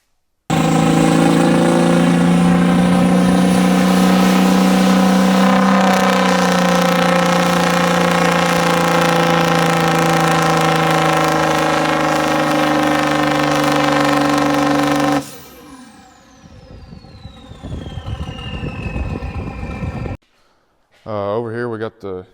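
A pulling tractor engine runs hooked up to a dynamometer, a loud, steady droning roar with a strong tone that holds for about fifteen seconds before cutting off, leaving quieter clattering noise.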